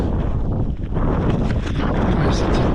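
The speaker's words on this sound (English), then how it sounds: "got the wind I was hoping for." Strong wind buffets and roars continuously across a coastal path campsite, loud and close, with gusty surges battering the microphone.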